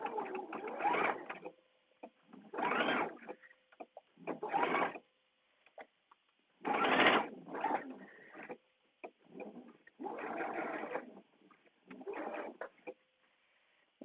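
A sewing machine stitches a printed dress seam in several separate bursts of whirring, each a second or so long, with short pauses and faint handling noise between them, close and clear.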